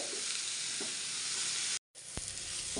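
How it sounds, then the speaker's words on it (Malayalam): Sliced onions sauté in a pan as they turn brown for a cauliflower masala, giving a steady close hiss of frying with a few soft stirring scrapes and a brief break midway. "സവാള നല്ല ബ്രൗൺ നിറമാകുന്നത് വരെ വേണം വഴറ്റിയെടുക്കാനായിട്ട്"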